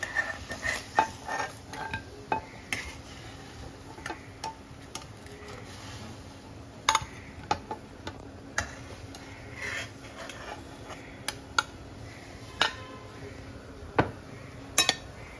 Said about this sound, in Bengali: প্লেটে তুলে নেব।